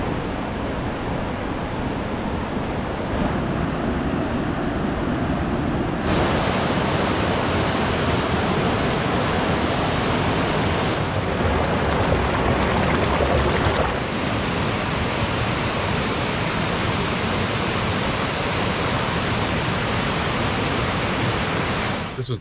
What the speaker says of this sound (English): we'll take a look at the waterfalls anyway